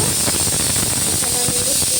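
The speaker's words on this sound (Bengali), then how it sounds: "আলুটা দেখলে একটা সিটি হয়ে গেল" A pressure cooker boiling potatoes for fish curry lets out a loud, steady whistling hiss of escaping steam that runs unbroken throughout, with faint kitchen sounds underneath.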